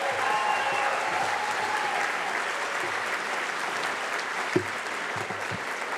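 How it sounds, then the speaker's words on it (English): Sustained applause from a school board meeting audience honoring award recipients, a dense steady wash of clapping lasting throughout with a single sharp thump near the end. "Let's hear one more big round of applause for all of our recipients."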